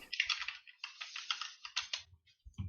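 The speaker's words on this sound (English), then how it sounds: "somebody has a very mechanical keyboard." Rapid clacking keystrokes on a very mechanical computer keyboard, close and fairly faint, in bursts of fast typing with short pauses and a few scattered clicks near the end.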